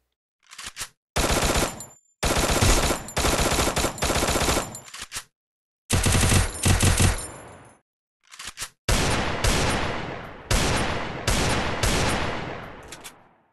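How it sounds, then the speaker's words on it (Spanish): Loud bursts of automatic gunfire in the Free Fire video game, fired from the hip without aiming down sights. The bursts run in several long runs separated by short silent gaps. "Vamos a disparar sin levantar la mira."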